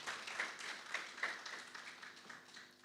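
An audience at an architecture talk gives a faint patter of applause, soft scattered claps running a few seconds with no one speaking.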